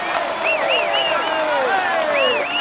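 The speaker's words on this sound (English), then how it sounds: "Come on, let's applaud him once more." Crowd applause and cheering in a Tour de France 2014 cycling video game on PS4: a dense, steady wash of clapping with rising whoops and whistles throughout, loud and close.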